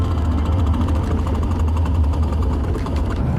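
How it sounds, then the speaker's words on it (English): A 1987 BMW E28's worn old transmission gives a continuous, loud, low rattling and grinding rumble that stays steady for the whole few seconds. "No more crazy rattling and grinding, whatever you wanted to call that noise."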